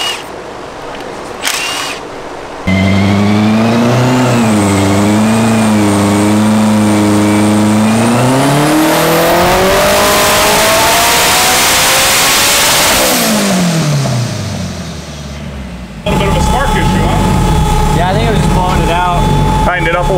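Turbocharged 900hp K24 four-cylinder Honda Civic revving on a dyno: a loud engine pull climbing steadily in pitch for several seconds, then dropping off, followed by a harsh, noisy high idle.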